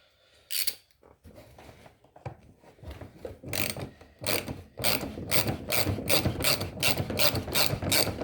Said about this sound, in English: just take your time with it and just kind of turn it slowly with the wrench